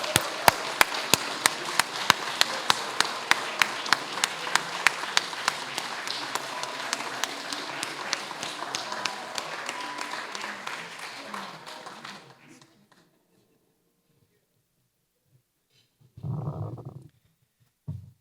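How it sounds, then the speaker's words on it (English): An audience of awards-ceremony guests applauds honorees, a dense, steady clapping that continues for about twelve seconds and then cuts off, followed by silence and a brief low sound. "Please join me in one more round of applause for all our 2025 Distinguished Alumnx Award honorees and Lifetime Achievement awardees."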